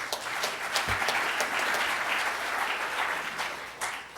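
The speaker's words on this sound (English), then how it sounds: "Let's give him a big round of applause." An audience at a Rotary Club meeting claps steadily, a dense sustained round of applause filling the room, with no one talking over it.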